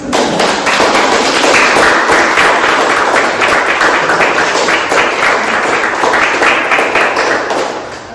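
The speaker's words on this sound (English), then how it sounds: "Let's do one more round of applause" Audience applause after a research talk fills the room as a loud, dense, steady patter of many hands clapping, holding for about eight seconds before easing slightly at the end.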